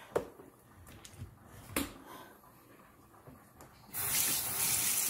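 Cold water pours steadily into a bowl of chitterlings, a rushing splash that swells loud near the end after a few soft clinks and knocks.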